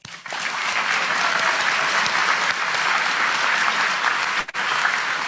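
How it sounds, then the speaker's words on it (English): Sustained audience applause at a college graduation ceremony, a dense, steady wash of many hands clapping that fills the room, with a brief dip near the end. "I'd like to extend my congratulations and a big round of applause to all of you."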